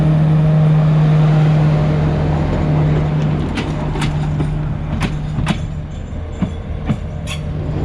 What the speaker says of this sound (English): Here is the locomotive changing the direction. It's going to couple to the rear of our train